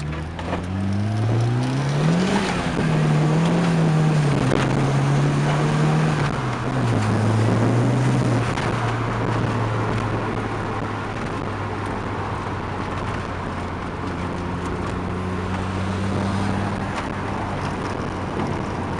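A Ford Escort RS Turbo engine pulls hard through the gears, rising in pitch with shifts and then holding a steady, loud, close drone inside the car, with no talk over it.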